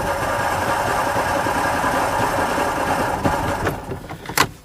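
A Starcraft boat engine idles roughly at a steady, fairly loud level, then takes a short burst of throttle near the end, and its rumble breaks into uneven bumps as it revs.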